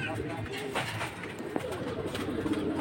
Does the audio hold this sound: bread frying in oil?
no